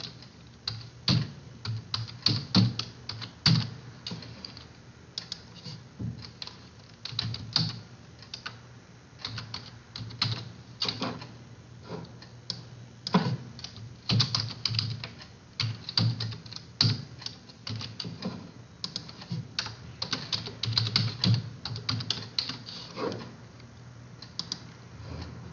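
Steady typing on a computer keyboard while setting up a password, with dense, irregular close clicks continuing throughout and no talk.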